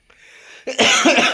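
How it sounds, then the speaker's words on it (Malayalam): A brief faint rustle, then a loud, harsh coughing burst that rattles on for under a second, close up, with no talking. "ചുമയൊക്കെ ഉണ്ട്."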